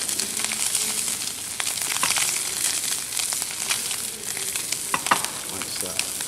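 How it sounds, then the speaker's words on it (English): Scallops sear in hot oil in a pan, giving a steady, close, loud sizzle and crackle that holds throughout with small bursts of spattering, and no voices over it. "I'm just going to put them right down in the pan, like this. I'm going to work that oil around just a little bit."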